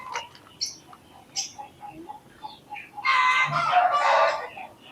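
Chickens in a chicken coop beside an abandoned white house give scattered short clucks and calls, then one loud, drawn-out crow close by. No one speaks.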